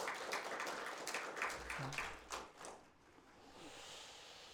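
A church congregation at a Sunday service claps to encourage a deaconess, a faint, scattered round of applause that tapers off and fades into quiet room tone after a couple of seconds.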